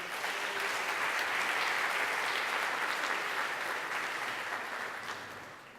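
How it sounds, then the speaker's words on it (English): A large audience at a conference claps steadily and loudly for several seconds, the applause slowly tapering off toward the end. "Let's give another big round of applause for our"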